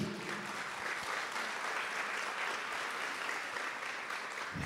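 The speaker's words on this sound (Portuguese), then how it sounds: "Vamos aplaudir a mulher do Apocalipse." A religious congregation applauds together in a steady, dense wash of clapping that holds at an even level for several seconds, with no voices above it.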